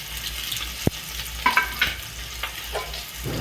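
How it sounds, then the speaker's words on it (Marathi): Cumin, mustard seeds, green chili and onion fry in hot oil for dal tadka, giving a close, crackling sizzle with a few sharp pops and stirring clinks. "जिरं, मोहरी, हिरवी मिरची, कांदा. कडक तेल तापल्यावर टाकायचं."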